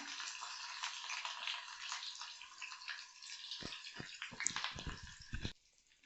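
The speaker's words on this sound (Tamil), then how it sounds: "நம்ம கட் பண்ணி வச்சுருக்கிற ஒரு 4 வெங்காயத்தை சேர்த்து நல்லா பொன்னிறமாக செவக்க வதக்கலாம்" Sliced onions hiss in a hot pan for a mutton gravy, a steady close sizzle that gives way to a few clattering stirs before the sound cuts off.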